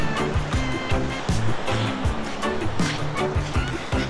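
Low-tide waves break and wash onto a sandy island beach, a continuous rolling surf with repeated surges, mixed with some wind and faint background sounds.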